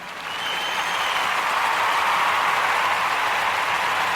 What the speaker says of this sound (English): let me give all of those Kuji babies a round of applause